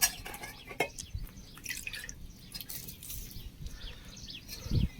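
Water drips and splashes while a cooking pot is washed, close and irregular, with scattered clinks and faint birds chirping in the background.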